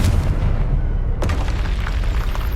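In the video game Hogwarts Legacy, a Confringo spell detonates as one loud, booming blast with a sharp burst, set against dense, rumbling combat noise.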